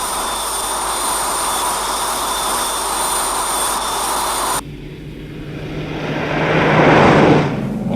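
Steady broadband drone of a light aircraft engine in flight, loud and continuous, then the tone shifts and swells toward the end.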